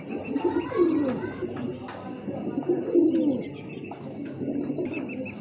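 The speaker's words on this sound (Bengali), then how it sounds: "কবু তো দুইটা আপনাদের একটু দেখাই" Racing pigeons coo repeatedly at close range on a pigeon farm, soft throaty rolling calls with a few faint chirps around them.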